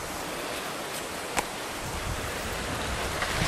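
Wind blows steadily across an outdoor garden, a soft broadband rush buffeting the microphone with a brief gust thump.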